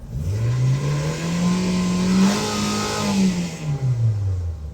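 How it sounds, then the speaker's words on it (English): A 2017 Nissan Sentra 1.8L engine with a lean fault revs up from idle as the throttle is held open, its pitch climbing, holding high, then falling back, loud and close with no talking. "let's open up the throttle and see what happens"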